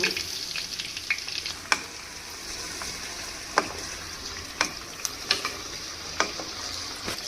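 Homemade hibiscus hair oil with sesame oil and fenugreek seeds simmers on low heat, giving a steady crackling fry with sharp pops and clicks scattered throughout, alone without talk.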